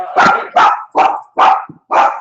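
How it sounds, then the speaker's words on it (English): Five sharp dog barks in a steady rhythm, loud and close over a phone call, with brief silences between them. "I can hear the dogs barking"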